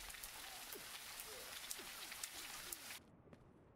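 Steady rain of blood pours down in a fantasy castle level of an action video game, a continuous hiss with scattered drop hits that cuts off abruptly near the end, leaving a quieter background.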